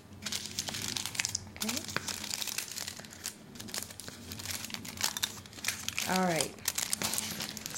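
Aluminum foil and cardboard sides folded up by hand for a cardboard arcade game, crinkling and rustling up close in uneven bursts while a person talks briefly.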